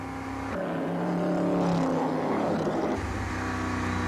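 Lola racing cars on the final lap, engines droning loudly and passing by with a rising then fading roar over a steady mechanical hum, close and continuous with no talk.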